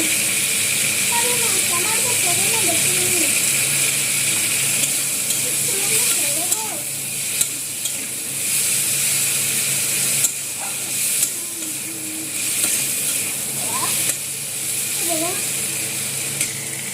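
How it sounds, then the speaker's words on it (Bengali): Potatoes fry in a pan seasoned with salt and turmeric, giving a steady, loud sizzling hiss with occasional stirring scrapes while a person talks over it. "আলুগুলো অল্প ভেজে নেওয়ার পরে এটা আমি বড়িগুলো দিয়ে দেবো।"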